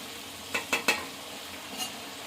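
Tomatoes and onions frying in a pan for crab curry sizzle steadily close by, with three quick stirring scrapes near the start and one more later, and no one speaking.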